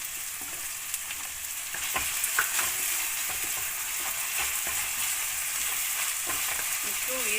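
Vegetables and green beans stir-fried in a street-food restaurant pan for egg noodles, with a steady broadband sizzle and repeated scraping clinks of the spatula, fairly quiet and unbroken, no voices.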